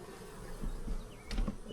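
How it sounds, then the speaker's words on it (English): Honeybees buzz densely at the entrance of a beehive, a close, continuous hum with individual bees droning past, with no voices. "There's a lot of bees."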